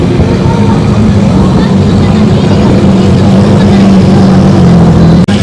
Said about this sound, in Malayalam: അടുത്തൊരു ഫെരാരി അവിടുന്ന് മൂവ് ചെയ്തു.